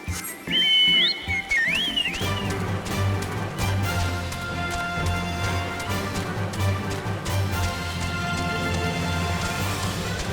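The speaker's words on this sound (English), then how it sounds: "Oh, it's raining." Rain falls in Final Fantasy XIV as a steady, even hiss throughout, with high whistling tones early on and game music layered over the downpour.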